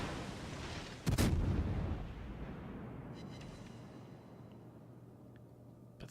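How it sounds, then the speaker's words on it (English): Main guns of the Chapayev cruiser firing in World of Warships: a single loud, close boom that rolls into a long fading rumble, with no voices. "are the bread and butter of the ship. They are firing consistently, great accuracy on them, setting fires up."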